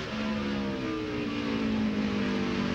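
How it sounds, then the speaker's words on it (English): Racing truck engines at a 2001 oval track event, a steady loud drone with sustained high-revving tones blending together at a distance, no voices over it. "You can hear the engines of these guys."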